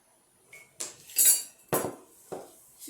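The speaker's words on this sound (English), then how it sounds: "I just have a square Pyrex dish." Square glass Pyrex casserole dish handled in a kitchen, with a few sharp clinks and knocks spaced about half a second apart, close and fairly quiet.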